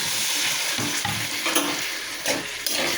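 Eggplant, potato and chili vegetables sizzle and fry loudly in a pan as a little water is added, with a continuous hiss and occasional stirring scrapes up close.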